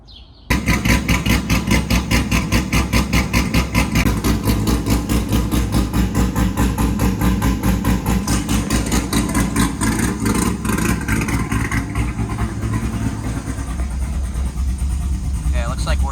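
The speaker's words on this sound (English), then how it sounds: "I'm gonna pull it out and let it idle for a while" A C5 Corvette Z06 engine idles steadily and loudly throughout after an alternator install, a continuous rumbling throb with a fast regular pulse, close by.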